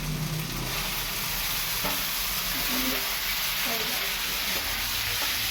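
Cut potatoes dropped into hot spiced oil in a pan, giving a steady loud sizzle and hiss with a few stirring scrapes and knocks on top, no talk heard.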